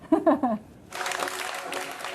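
Theatre audience applauding and cheering at a curtain call, a dense burst of clapping that follows a short spoken phrase and carries on steadily.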